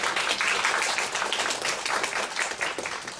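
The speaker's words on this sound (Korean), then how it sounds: "저희 큰 박수로 모시겠습니다" Audience clapping to welcome a lecturer at a teacher-training bootcamp, many hands beating in a brisk, even patter of moderate loudness that holds steady for a few seconds and tapers slightly.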